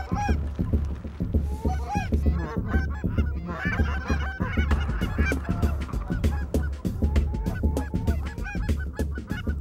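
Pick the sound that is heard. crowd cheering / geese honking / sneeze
geese honking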